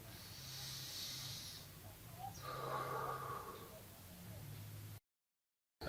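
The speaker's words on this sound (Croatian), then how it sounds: "udahnite i sad pri izdisaju stisnite" A patient forcefully exhales during a breathing exercise for clearing airway secretions: one faint, breathy rush of air midway through a quiet room with a low hum.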